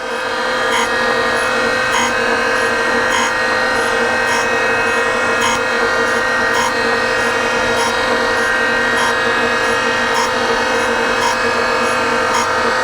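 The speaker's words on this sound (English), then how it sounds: "So for this final pass, I am going to traditional grind it." Surface grinder grinding hardened bolts for a race car, a loud continuous abrasive hiss over a steady motor hum, with a faint rhythmic pulse as the table sweeps back and forth.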